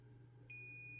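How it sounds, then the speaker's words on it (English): A multimeter on continuity mode testing a breadboard row sounds a single clear, high, pure-toned beep that starts halfway through and holds steady over a quiet low hum, with a brief dip near the end. "So I should be able to go along and test every row and hear a beep"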